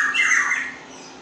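Sooty-headed bulbul (trucukan), a six-year-old kept songbird, gives a single loud, close squawking call lasting about a second, bright and harsh, with no other sounds around it.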